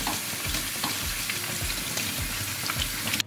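Cold tap water runs over a dirty air filter being washed by hand: a constant near, loud rushing hiss with irregular low splashes and rubbing knocks.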